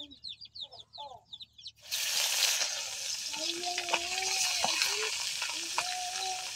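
Fish fries in hot oil with a loud, steady crackling sizzle that starts abruptly after a moment of clucking chickens nearby, and it continues close and constant with faint background sounds.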